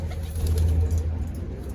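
Pigeons in a racing loft in San Pascual, Batangas give a low, soft coo over a continuous hum of background noise, brief and fairly close.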